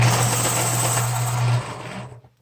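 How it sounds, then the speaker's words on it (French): A pencil sharpener grinds a crayon in a close, steady whirring burst that lasts about one and a half seconds, then tapers off and stops. "je fais du bruit avec mon aiguisoir"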